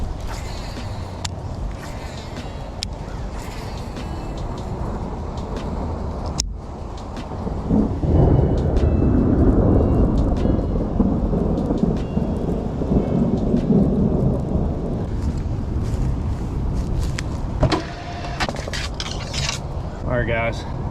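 A thunderstorm with heavy rain pours down at a bank-fishing spot, a steady broadband wash of rainfall that swells louder partway through, with rumbling thunder beneath and a few sharp cracks and scrapes nearby.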